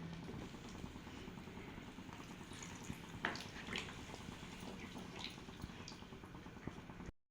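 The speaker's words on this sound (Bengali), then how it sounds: "জল দেওয়ার পর দেখুন ফুটতে শুরু করেছে।" Water in a pot of vegetarian potato curry (aloo dum) comes to a boil, giving a steady, close bubbling hiss with scattered small pops and drips throughout.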